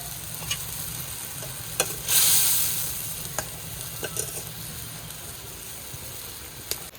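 Fried parshe fish slides into a simmering mustard gravy, giving a brief loud sizzling burst over a steady low bubbling and occasional stirring clicks, with no talk.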